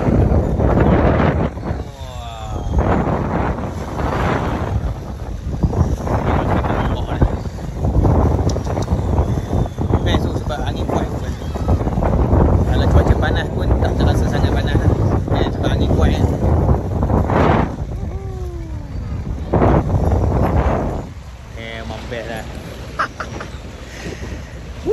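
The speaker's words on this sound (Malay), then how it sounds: "Tengok angin kuat." Strong wind at Marina Island, buffeting the microphone in loud, continuous rumbling gusts, with voices faintly audible beneath it.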